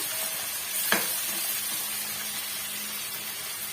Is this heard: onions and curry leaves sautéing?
yes